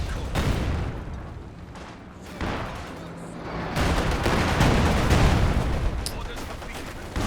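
Artillery barrage in the strategy game Company of Heroes 2, a 2v2 match: rolling booms and gunfire rumble continuously, swelling louder in the second half, with a voice talking over the battle.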